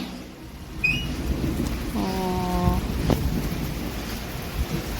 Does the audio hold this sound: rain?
yes